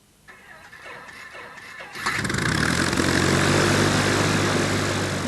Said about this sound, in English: I'm about ready to take an airplane out to Area 51.